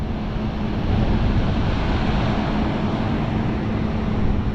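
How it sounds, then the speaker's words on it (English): Rough ocean surf and wind on a shoreline the day after Hurricane Ian, a steady dense roar of breaking waves blending into wind rush, loud and continuous with no voices. "Waves are still pretty tough"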